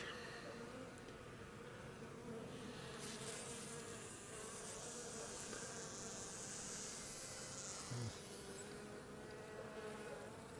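Many honey bees buzz steadily and close by around a beekeeper in a dense, continuous drone, with individual insects whining past.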